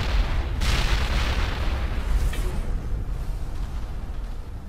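A loud, rumbling explosion in the video game Mass Effect, a broadband boom that swells and then trails off into a sustained low roar with no voices over it.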